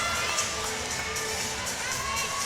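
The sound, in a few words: Auburn gymnastics fans roaring and cheering in arena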